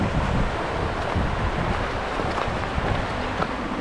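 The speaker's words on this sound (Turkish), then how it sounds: "Suyun sesi, derenin sesi." A snowy mountain stream rushes over rocks in a steady, close, broadband roar, mixed with wind noise on the microphone and no talk.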